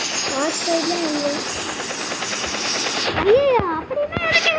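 Helicopter in a Roblox game, its steady rotor and engine drone filling the clip at close range, with chirpy game sound effects sweeping over it near the end.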